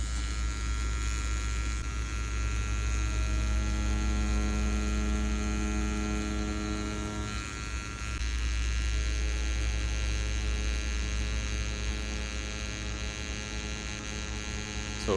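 A Dark Knight tattoo machine runs at 7.7 volts on a 4 mm stroke, producing a steady, continuous electric buzz with a strong low hum that holds nearly unchanged throughout, dipping only briefly midway.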